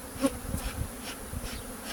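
Honeybees, some gorged with honey, buzz around an Apidea mating nucleus, a close, dense hum with individual bees zipping past the microphone.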